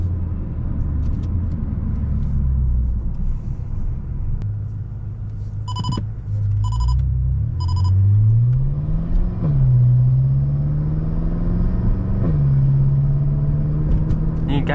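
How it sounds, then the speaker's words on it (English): A 750 hp BMW M5 sports sedan engine hums and rumbles steadily, with several quick rising revs and abrupt pitch drops as fast gear shifts occur under load, heard from inside the car. "you can hear how fast this thing shifts"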